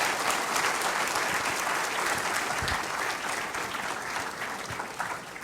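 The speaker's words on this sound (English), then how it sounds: "can we have a quick round of applause to all the gentlemen here on the stage?" An audience at a RISC-V technology symposium applauds the panel on stage with steady, dense clapping that lasts the whole stretch and fades slightly at the end.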